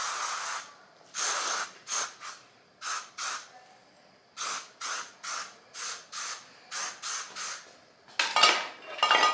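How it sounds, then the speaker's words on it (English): Repeated short hisses of a glossing aerosol hairspray on curled hair, a dozen or so bursts in an uneven rhythm, close by, with no talking. "Now I am going to load it up with hairspray."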